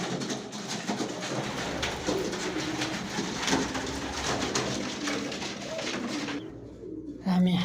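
A pigeon coos close by in repeated soft, throaty calls over a busy background hum, and the sound drops away near the end.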